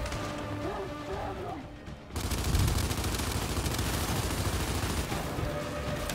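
Gunfire from a Gears of War 5 battle, blasting at ice underfoot, bursts in loud and dense after a quieter opening and keeps up a sustained rattling, crashing barrage to the end.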